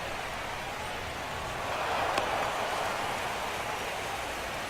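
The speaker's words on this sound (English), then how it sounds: "When it's raining out there" Rain pours steadily over a baseball stadium during a World Series game, a broad hiss of drops that swells slightly midway and then settles, filling the space evenly with no voices.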